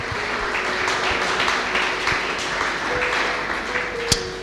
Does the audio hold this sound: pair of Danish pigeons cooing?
no